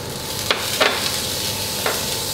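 Onions cook in melted butter in a soup pot over medium heat with a steady, moderate sizzle. A few sharp crackles and spatters stand out.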